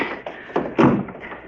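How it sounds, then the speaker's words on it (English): Heavy door swung shut in a 1956 radio drama, a series of dull wooden thumps and knocks ending in a louder closing thud, close and alone without speech. "help me close the door."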